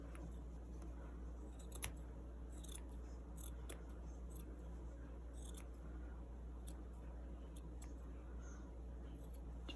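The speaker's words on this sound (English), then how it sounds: "So we're just going to trim this all the way down." Scissors trim yarn on a handmade gnome in a quiet room, making repeated short, crisp snips at an irregular pace over a low steady hum.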